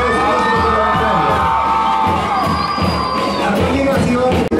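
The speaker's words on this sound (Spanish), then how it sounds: "La Universidad Bancaria de México, un fuerte aplauso, por favor" Dense crowd noise from a university ceremony in Teoloyucan, Mexico, with cheering, shouting and whoops running continuously and loudly throughout, applause for the students blended into the din.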